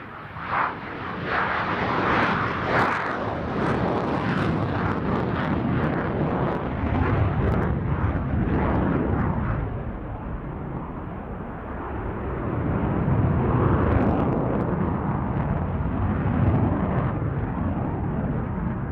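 A Hellenic Air Force F-16 fighter jet at an air show roars loudly and continuously, a broad sustained engine rumble that swells and shifts as it passes, with no speech.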